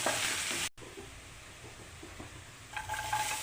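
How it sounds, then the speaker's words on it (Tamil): Crushed garlic with green chillies sautéing in a pan for a green gram curry, a steady soft sizzle with light stirring scrapes, close and alone, brightening toward the end. "இந்த பூண்டு நல்லா வசங்கட்டும்."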